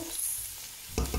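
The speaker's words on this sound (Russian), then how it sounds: "Обжариваем лук с чесноком до румяной корочки. Все это на оливковом масле." Onion and garlic browning in olive oil, a faint steady sizzle close by, followed by two brief low knocks of stirring near the end.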